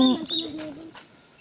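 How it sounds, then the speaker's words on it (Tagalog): A bird in the trees near a Palawan beach gives a short cooing call, close and fairly loud, fading out with faint voices in the background. "Ibon bising yan."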